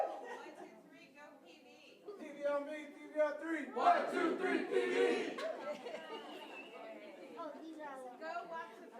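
A group at a council meeting shouts a cheer together, a burst of many loud voices rising after a quieter lead-in, with crowd chatter continuing around it.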